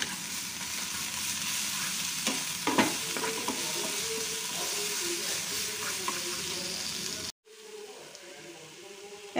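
Cumin paste sizzles in hot oil while being stirred for a Bengali fish curry, a continuous frying hiss with a few scraping clicks, cut briefly near the end before a quieter sizzle resumes.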